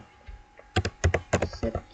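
Quick clicks of typing on a computer keyboard while entering router commands, a short cluster of close, crisp keystrokes in uneven rhythm.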